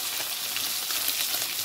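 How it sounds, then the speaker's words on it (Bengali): Koi fish frying in oil in a pan gives a continuous, fairly loud hissing sizzle with a soft crackle that swells briefly at the very end. "আরও আমি একটু ভেজে নেব।"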